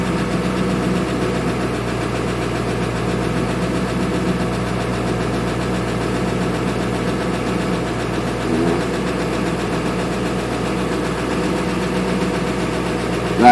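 Tired engine of a 2000 Ford Excursion with fresh batteries idles steadily after a hard cold start, a low continuous rumble with a faint knocking texture, heard close and alone without talk.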